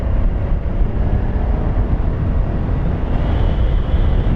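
BMW C650GT big scooter at full throttle around 70 to 80 km/h, a steady loud roar of engine and rushing wind buffeting the microphone, continuous with no break.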